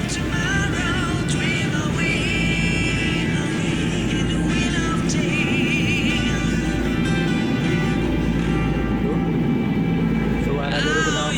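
A tugboat's engine exhaust rumbles loud and steady on a river as it tows a barge loaded with coal, a continuous deep drone with voices faintly mixed in.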